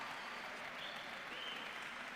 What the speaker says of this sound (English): A big round of applause for Joan Mir and Luca Marini